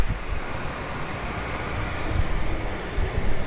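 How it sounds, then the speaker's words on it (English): A passenger plane, Southern flight 3670 from Indianapolis, approaches Dallas Love Field, giving a steady broadband roar of engine and wind noise that swells slightly toward the end. "And we have a plane which is about to arrive"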